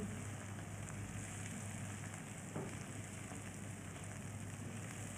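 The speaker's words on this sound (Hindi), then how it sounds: "6 से 7 हरी मिर्चें मैंने ली हैं। इनको भी तकरीबन 1 मिनट ज़रा मैं भून लूँगी ताकि मिर्चों का भी कच्चापन ख़त्म हो जाए।" Six or seven green chillies roasting in a pan for about a minute, giving a steady, soft, rain-like sizzle and crackle that runs throughout at low level with no talk.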